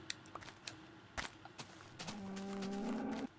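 Cow mooing in Minecraft: one sustained, buzzy moo over the second half, preceded by scattered clicks and taps, with no talk over it.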